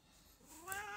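A single faint cat meow rises from a low start into a clear, higher-pitched cry over a quiet indoor background.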